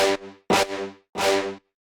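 Brass stab sample in electronic music production plays three short, punchy hits with brief tails, bright and sharp, alone without any voices.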